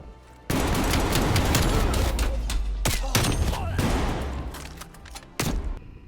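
Rapid gunfire from the video game Call of Duty, with dense bursts of automatic shots and loud cracks that pause briefly near the end before a final burst.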